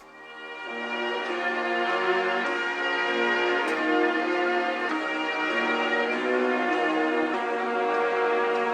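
A slow, chopped sample in a Flint-style beat plays with a halftime effect, sustained bell-like tones looping in a steady stretched rhythm with no speech.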